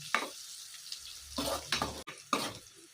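Unpeeled garlic cloves frying in oil over a low flame for homemade amla pickle give a soft, intermittent sizzle, broken by several brief stirring scrapes close by.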